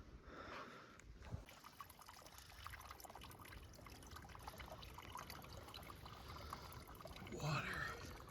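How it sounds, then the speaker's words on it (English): A faint, steady trickle of water runs through a small stream outdoors in the Pennsylvania woods during archery season, soft and continuous with light rustling around it. "There's water up here."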